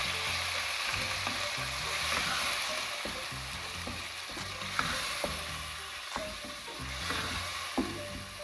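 Tomatoes added to keema frying in a pan, a steady close sizzle with scattered clinks and stirring knocks throughout.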